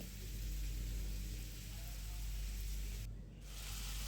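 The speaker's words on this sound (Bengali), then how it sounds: "মরিচ বাটা করার জন্য এগুলো ভেজে নিচ্ছি" Chilies with vegetables such as long beans and potatoes frying in a pan, a steady soft sizzle and hiss running continuously at low level, briefly dipping near the end.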